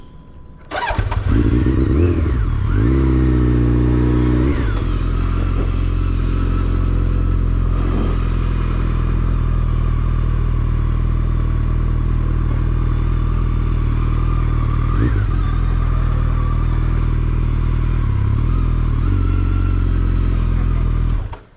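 A motorcycle at a Georgia license test starts up and idles loud and close, with a few throttle blips early on and then a steady rumbling idle that cuts off at the end.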